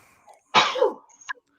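A single sharp sneeze bursts out close by during a live stream chat about mowers, a short explosive blast followed by a brief fading tail and a faint small sound after it.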